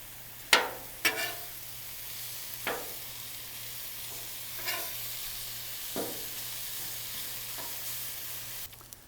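Day-old white rice fries on a LoCo griddle, a faint steady sizzle broken by a few sharp scrapes and clacks of a spatula turning it, spaced a second or two apart, with no talk.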